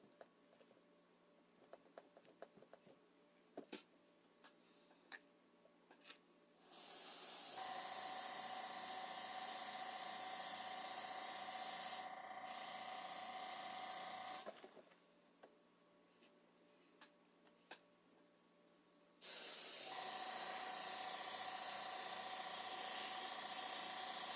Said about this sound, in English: I'm going to overspray it.